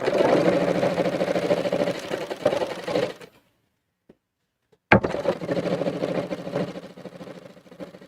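A smooth-running sewing machine stitching folded Christmas tree napkin fabric: a close, fast continuous whir that stops for about a second and a half, then starts again with a click, with no talking.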